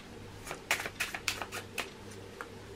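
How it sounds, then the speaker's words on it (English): A deck of playing cards being shuffled during a close-up card trick: a quick series of six or seven crisp, papery bursts, close and moderately loud, over a quiet background. "I'll shuffle the cards"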